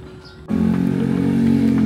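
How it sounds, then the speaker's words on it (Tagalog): A motorcycle engine starts droning loudly and steadily close by after a brief quieter moment, holding a constant low hum through the rest of the short stretch, with no talking. "Ingay ng motor."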